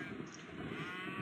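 Cows moo in the McDonald's video game, one short low drawn-out bovine call over a steady background hum, heard alone without talking.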